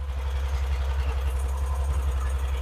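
A 1950 Chevrolet 3600 pickup truck engine idles steadily up close, a continuous deep, even rumble that holds without revving or pauses.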